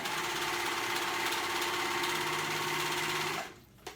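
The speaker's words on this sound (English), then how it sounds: "make sure that you test out what stretch stitch you wanna use on your fabric" A sewing machine runs a stretch stitch on dress fabric for an A-line dress, giving a close, steady, fast whirring rattle for about three seconds before stopping abruptly.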